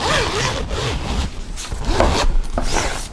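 A clothing zip on an unboxed item being pulled open, giving repeated raspy scraping strokes at close range, loud and continuous over about three seconds with no talk.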